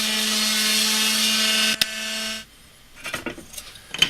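An orbital sander whines steadily against wood, then switches off and spins down, followed by a few light knocks and handling sounds.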